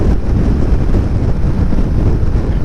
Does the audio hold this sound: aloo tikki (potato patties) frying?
no